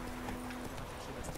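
Horse hooves clip-clop steadily in the video game The Witcher 3, a faint rhythmic patter under game ambience and background noise.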